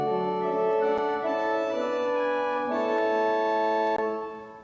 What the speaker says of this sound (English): those are called diapason, or principal pipes. They make a sound like this.